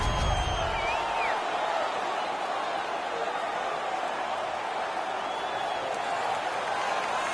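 Home fans at an ice hockey game keep up a loud, steady roar of cheering and crowd noise through the whole stretch, a dense wash of sound with no single voice standing out.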